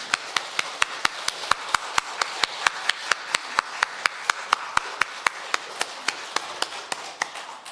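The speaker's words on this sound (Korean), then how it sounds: "힘찬 박수로 영혼 돌립니다." Steady, rhythmic unison clapping from a church congregation after a choir anthem at a Sunday service, crisp and evenly paced, continuing loud and close throughout with no voices on top.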